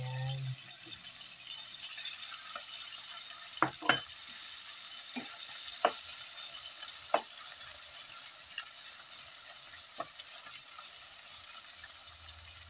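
Chicken gizzards for chopsuey stir-fry in a pan, a constant soft sizzle with scattered sharp clicks and scrapes of a utensil against the pan, fairly faint, and a voice is heard briefly at the start.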